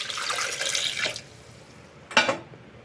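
Water poured into a mixer jar holding ice cubes, jaggery, ginger, mint leaves and lemon juice, a short close splashing pour followed after a pause by a brief louder gush, with no talk.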